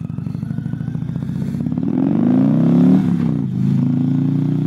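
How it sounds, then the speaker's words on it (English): A motorcycle engine revs while riding, a loud rising and falling drone that climbs in pitch, eases briefly and surges again, close with wind rush around it. "I love the sound of this bike. It sounds so awesome."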